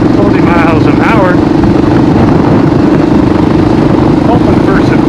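A KLR650 motorcycle rides in fifth gear at about 40 mph, with a steady engine hum and heavy wind rumble throughout and a rider talking over it.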